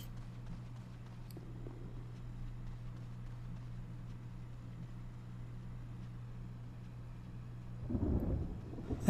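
Low rolling thunder from lightning in the Resident Evil HD Remake game, a steady rumble running throughout and swelling into a louder crack near the end.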